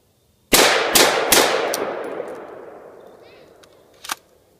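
Three rapid, loud rifle shots of .223 Remington ring out outdoors, with a long echoing decay afterward, followed by a fainter single metallic clack.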